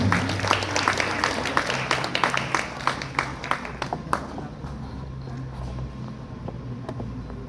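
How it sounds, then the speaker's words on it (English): A convention audience applauds the Secretary of the Department of Science and Technology, with dense clapping for about four seconds that thins out and fades over a low room hum. "Let's all give him a round of applause."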